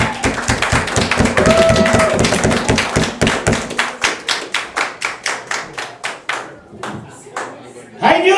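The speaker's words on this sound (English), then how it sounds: "So give a huge fucking Nanaimo round of applause for Uncle Bill." Comedy club crowd claps for a comedian taking the stage, a dense burst of applause that thins into scattered, spaced hand claps before fading out, with cheering voices mixed in early.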